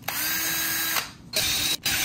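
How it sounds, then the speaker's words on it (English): A power drill drills into a wall to mount a TV, whirring steadily for about a second, pausing briefly, then revving again in two shorter bursts, close and loud with no talking. "Now we drill."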